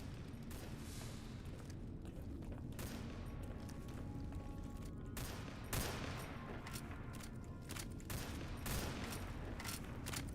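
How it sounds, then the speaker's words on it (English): Distant, faint gunfire at a firing range in the video game Fallout: New Vegas, a scatter of sharp shots and bursts over a steady background hum. "Where the fuck is the firing range? I can hear them shooting."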